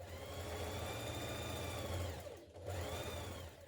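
Sewing machine stitching a summer dress skirt side seam at a 1.5 centimetre seam allowance, a steady close mechanical whir with a brief pause midway before stitching resumes.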